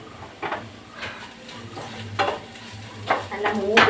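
Okra stir-fried in a pan for a Kerala mezhukkupuratti, with a soft steady sizzle and repeated scraping strokes of a spatula against the pan, about six in under four seconds, close and clear.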